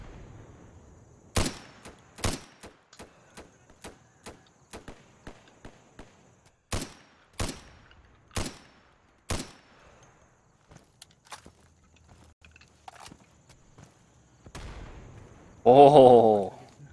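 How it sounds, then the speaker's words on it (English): Gunfire in a shooter video game: a series of loud, sharp shots spaced irregularly, some in quick pairs, with quieter gaps and a louder explosive burst near the end. "Poncho, I think I shot you"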